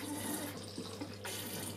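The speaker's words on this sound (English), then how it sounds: "We just flush it out like this, holding the tank up." Water is flushed out of a Lomo developing tank for 16mm film, the tank held up while liquid pours in a steady close splashing stream that shifts in tone partway through.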